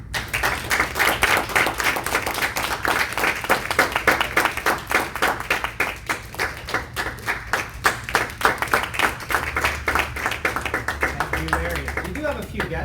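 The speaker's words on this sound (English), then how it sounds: "We clap the entire time someone is walking up to the front and the entire time they're returning back to their seat." An audience at a Toastmasters meeting claps steadily in dense, continuous applause that holds an even level throughout, with voices faintly underneath.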